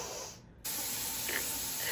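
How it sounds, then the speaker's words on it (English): Aerosol deodorant, a Secret Cool Water Lily or Fiji scent, sprays in one steady close hiss that starts after a brief pause and runs to the end, loud and alone. "I switch between these two deodorants."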